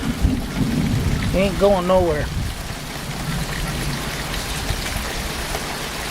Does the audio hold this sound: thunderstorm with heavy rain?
yes